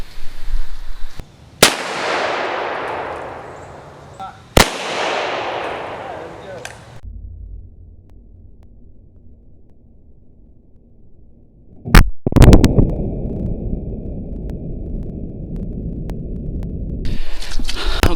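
Sharp, loud gunshots with full metal jacket rounds fired at a windshield, two spaced cracks with echoing tails, then a later burst of shots followed by rustling and wind noise outdoors.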